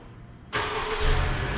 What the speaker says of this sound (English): this car does come equipped with a remote starter